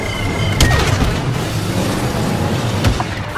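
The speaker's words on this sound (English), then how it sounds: "Rebel speeder bike destroyed." A speeder bike blows up during an Endor chase in the Star Wars Battlefront video game, a dense roaring boom with a couple of sharp cracks inside a loud, sustained rumble.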